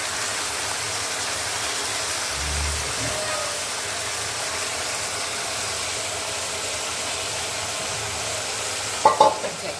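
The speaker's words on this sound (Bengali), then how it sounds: "এটা ভালো করে কিন্তু কষিয়ে নেব" Washed biryani rice being stir-fried for plain pulao in a pan, a steady low sizzle and hiss with occasional scraping stirs, ending in a few louder clinks.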